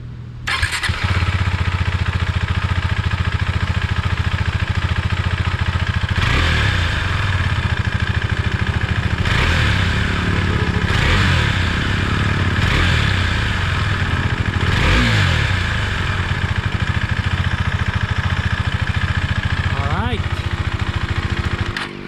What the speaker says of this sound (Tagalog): sound check natin yung uh, motor okay